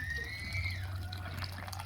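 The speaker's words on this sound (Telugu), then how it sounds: "నీళ్ళన్నీ తీసేస్తున్నానండి ఇలాగా" Water trickles and drips steadily as it is poured off soaked rice being readied for chicken dum biryani, a continuous close liquid flow with no talk.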